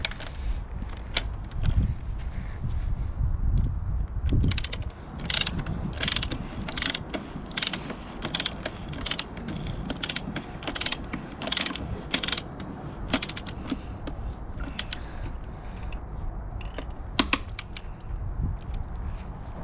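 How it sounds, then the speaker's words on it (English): A torque wrench ratchets in a steady run of sharp clicks while tightening the front sprocket on a Honda CBR650R motorcycle, close and loud over a low mechanical rumble, with no talking. "We need to torque it with a torque of 98 Newton meters."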